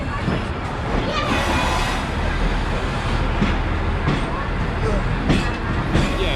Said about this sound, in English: So the train is gonna roll northbound for a while, then it turns right to basically create the circle around Yangon